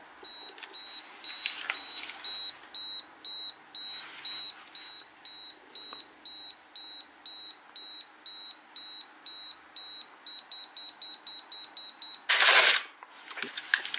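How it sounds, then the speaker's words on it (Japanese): The self-timer on a Pentax 645N medium format camera gives a close, steady series of high electronic beeps that speeds up toward the end, followed by one loud mechanical shutter release. "タイマーですね。"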